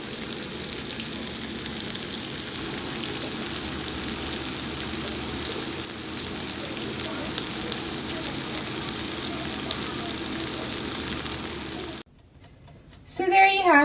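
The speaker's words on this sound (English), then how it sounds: "I'm just going to let this fry for another 5 minutes on the other side" Steady, loud sizzling of cassava egg balls frying in hot oil, continuous for most of the clip before cutting off abruptly near the end.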